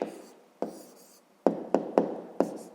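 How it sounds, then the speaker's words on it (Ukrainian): A pen writes out an answer to a fifth-grade math exercise, giving a few separate scratchy strokes and taps close up, with a pause early on and then a quicker cluster of marks. "Ну що ж, записуємо тоді відповідь."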